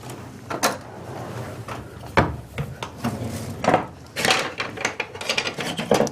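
Food being stirred in a cooking pot gives a run of woody scrapes, rubs and sharp knocks against the pot, irregular and close, with a few louder clunks and no voices.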